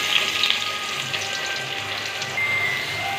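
Onions with ginger sauté in hot oil for coconut rice, giving a steady, close sizzle of bubbling and spitting with no talk.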